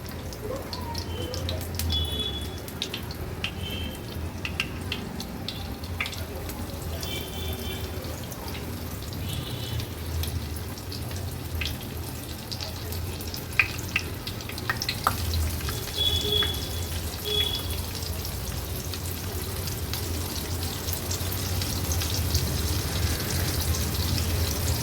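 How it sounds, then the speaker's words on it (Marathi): Four pieces of Bombay duck fish coated in flour and semolina fry in three tablespoons of oil on a hot tava, a faint, steady crackling sizzle with scattered pops that grows slightly louder over time. "एक एक करून 4 बोंबलाचे तुकडे आपण तव्यात सोडले आहेत।"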